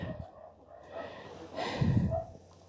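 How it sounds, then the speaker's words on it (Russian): A very thin, emaciated, gravely ill young female dog breathes with difficulty, giving faint snorting, labored breaths close by in a quiet setting, with a voice murmuring softly. "Дышит с трудом."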